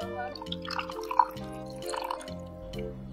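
Hot milk is poured into a batter mixture at close range, giving faint, intermittent trickling and dripping liquid sounds over a quiet background hum.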